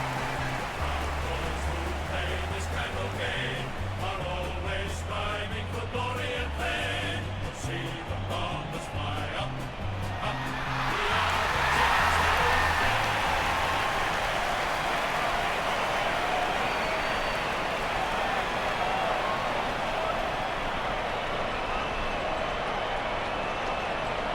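A stadium crowd in AFL Evolution cheers as the red and blue teams run onto the field. It starts as a dense, steady roar under an organ-like tune and then swells into a broad, loud ovation.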